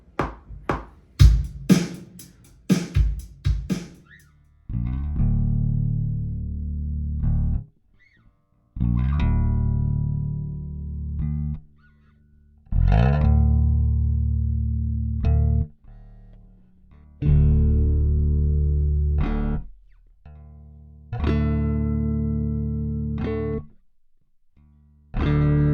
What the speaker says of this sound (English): I'm just gonna play a D and the octave of that.